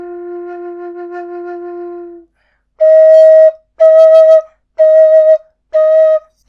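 A rosewood low F wooden whistle from Harmony Flutes plays a long sustained low note, then four separate clear tones, each held about half a second with short gaps, pure and breathy, close and alone.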